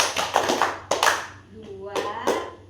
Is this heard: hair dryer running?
no